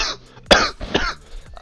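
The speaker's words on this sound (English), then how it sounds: "I'm still coughing." A person who is ill with COVID gives a short, close cough, then clears their throat.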